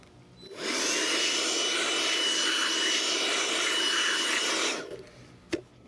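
A DeWalt blower blasts dust off a woodworking air filtration system's filter in one loud, steady rushing burst of about four seconds, then stops, followed by a single click.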